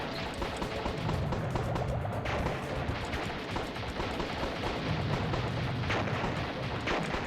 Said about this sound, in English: I actually didn't know they could shoot bombs that far.